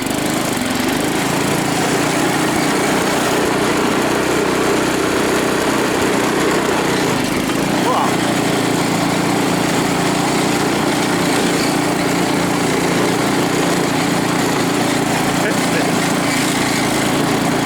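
A weak, low-powered small engine drones steadily and loud at close range, its lawn-mower-like tone holding an even pitch throughout with no pauses.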